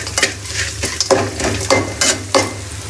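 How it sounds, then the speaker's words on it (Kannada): Coriander leaves fry with onions in a pan, a steady sizzle broken by a spoon or spatula scraping and stirring every half second or so, close up with no voices. "ಗೈಸ್, ಕೊತ್ತಂಬರಿ ಸೊಪ್ಪನ್ನು ಹಾಕ್ಬಿಡ್ತಿದ್ದೀನಿ. ಇದು ಚೆನ್ನಾಗಿ ಬೇಕಲ್ಲಿ ಈರುಳ್ಳಿ ಜೊತೆ."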